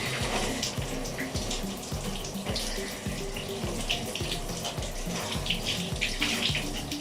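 A cold shower runs during a thirty-day cold shower challenge, a steady rush of spraying water close by, continuous and fairly loud, with no voices over it.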